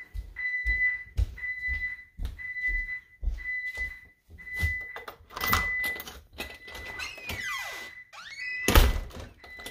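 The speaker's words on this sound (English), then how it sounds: "Shut the door firmly behind you and lock up." A house door is shut firmly while a home security alarm counts down its exit delay. Steady repeated beeps and a sweeping electronic tone lead up to a single loud, solid thunk near the end.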